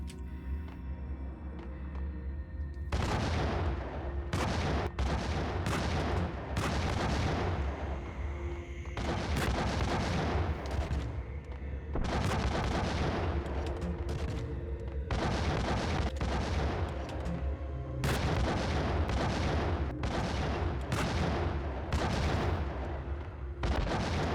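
Heavy, booming sniper rifle shots in the Max Payne game, several loud blasts separated by brief pauses, each with a long rumbling tail, no voices.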